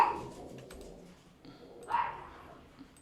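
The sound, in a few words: dog barking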